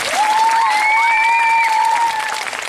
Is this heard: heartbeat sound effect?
no